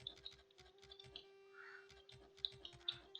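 Ten-finger typing on a computer keyboard during a computer exam, faint, steady, irregular key clicks tapping away close by, with a low steady hum underneath.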